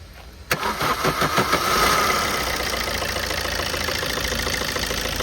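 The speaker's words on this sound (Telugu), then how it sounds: "ఇంజన్ అనేది కూడా స్టార్ట్ చూపించడం జరిగింది, చూసుకోవచ్చు." A 2008 Maruti Suzuki Swift LDi diesel engine cranks with a sharp catch, then settles into a steady, close, rumbling idle that runs on without a break.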